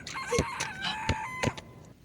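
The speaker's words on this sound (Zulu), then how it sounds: "Inkukhu phela leyo." A chicken clucks in short, sharp bursts while a rooster crows nearby, loud and clear with no talking.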